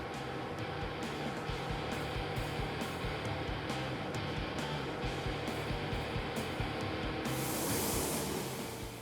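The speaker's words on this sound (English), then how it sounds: "Worldwide Auto Body owner Ricardo Calderon used the paint coat on our Silverado to mix up his Pro Spray paint and lay down 2 perfect coats of color" Truck panels for a Chevrolet Silverado are spray painted with Pro Spray paint in an auto body paint booth, a steady, loud hiss running throughout with a brief brighter surge near the end and no voices.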